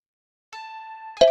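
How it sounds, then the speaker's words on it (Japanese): A phone ringtone sounds for an incoming call during a staged idol live show with robots: a steady electronic tone lasting under a second, clean and fairly loud, followed by a brief burst of a brighter sound. "なんか着信音が聞こえるよ。"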